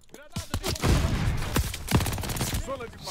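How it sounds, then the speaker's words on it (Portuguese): Bursts of gunfire from the video game Call of Duty Vanguard crackle through a few seconds, with shots overlapping a voice speaking and exclaiming at close range. "eu comecei a tomar tiro do céu"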